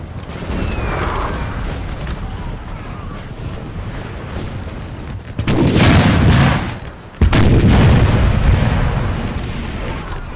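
Artillery dueling against French guns in a Napoleon Total War 3 battle at Friedland, heard as a steady rumbling wash of distant booms that swells into two heavy, loud blasts late on.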